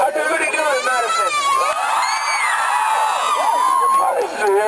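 A large crowd at a rally in Madison cheers and whoops loudly and steadily, with shouting voices rising and falling throughout and continuous babble beneath.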